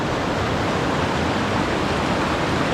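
A river current rushes over stones in steady, dense broadband water noise, loud and constant throughout with no voices.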